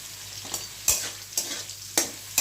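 Papaya pieces sizzle in a hot pan for a Bengali vegetarian vegetable dish, with a steady frying hiss broken by four sharp stirring scrapes at a roughly even pace, close by and with no voices.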